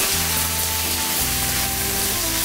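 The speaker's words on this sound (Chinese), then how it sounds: "好，现在接下来我们煸肉。" Meat stir-frying in a freshly oiled wok, a steady broad sizzle of hot oil that holds loud and even throughout, with a low hum of burner or fan underneath.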